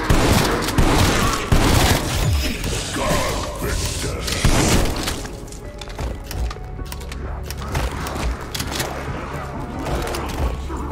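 Frag grenade explosion in a shooter video game, a loud close blast at the start followed by rumbling debris and continued gunfire and thuds fading into a noisy battle background.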